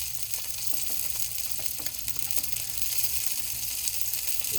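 Sausages fry in a pan with a steady, close sizzle and crackle that runs without a break, with small pops rising from the constant hiss.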